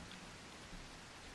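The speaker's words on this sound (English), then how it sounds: "you see, it's raining" Steady rain falls in The Isle, a dinosaur survival game, as an even, constant hiss with no voices.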